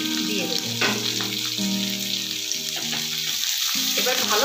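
Chopped onion and green chillies sizzle steadily in a pan for a dhaba-style egg tadka, a continuous frying hiss mixed with background music throughout.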